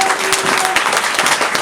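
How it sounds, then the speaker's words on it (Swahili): Applause rises from the lower section of a church congregation, a dense, steady patter of many hands clapping close by, with no pause across the short burst. "Makofi upande wa chini."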